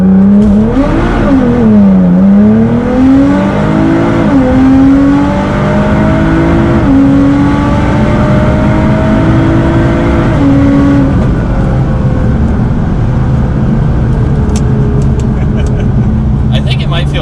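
A Nissan GT-R launching with launch control, its engine revving loud and close, then pulling hard with rising and falling tones through the gears, under excited talk from people in the car.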